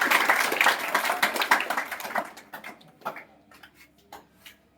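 An audience at a school ceremony gives applause to welcome guests, loud, dense clapping at first that thins out over a few seconds into scattered individual claps before fading.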